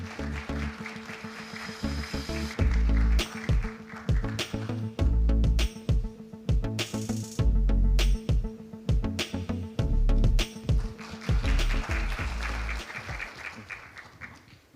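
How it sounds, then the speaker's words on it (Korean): Applause from the audience at the first Exhibition Industry Day ceremony, welcoming the association chairman to the stage; loud, sustained clapping comes in surging bursts over music with a strong beat, and lasts the whole time. "여러분 뜨거운 박수로 환영해 주십시오"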